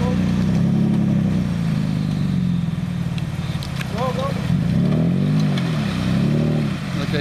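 A jeep engine revs and labours at low speed across an off-road obstacle course, a steady loud rumble with rising and falling pitch as the throttle shifts, while people talk over it throughout.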